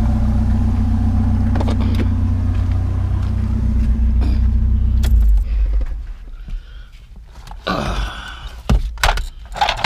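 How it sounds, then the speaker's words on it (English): A truck's idling engine rumbles steadily, loud and close, then cuts off after about five seconds, leaving quieter ambient noise in the rain with a few clanks and knocks afterward. "Let me turn off the truck."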